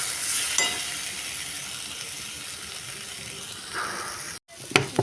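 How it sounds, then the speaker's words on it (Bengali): Spices and potatoes fry in a pan with a steady, close sizzling hiss for a chital fish curry, broken near the end by a few sharper scraping stirs. "মশলা মোটামুটি ভাজা হয়ে গেছে আলুও ভাজা ভাজা হয়ে গেছে"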